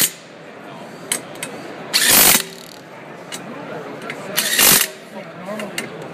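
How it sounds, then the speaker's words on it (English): An ACDelco ARI2061B half-inch 18V compact impact wrench, shown at a trade show, fires two loud, close bursts of roughly half a second each amid background room noise and chatter. "That was ACDelco's new half-inch compact impact wrench."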